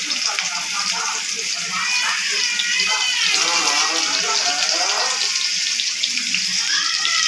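Chopped onions hit hot oil in a kadai while Maggi is being made, setting off a loud, steady, broadband sizzle close by that runs through the whole stretch, with a voice talking over it.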